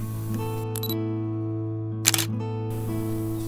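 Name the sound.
camera shutter taking photos, Viltrox 56mm F1.7 lens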